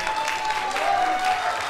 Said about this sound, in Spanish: le entreguemos un aplauso a este grupo de jóvenes que está acá